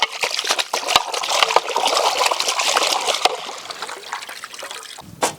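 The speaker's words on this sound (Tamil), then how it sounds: "நல்லா கழுவு தம்பி." Water trickles and splashes steadily while ingredients are washed outdoors for a village mutton roast. The flow is continuous and close, with faint clatter, and stops near the end.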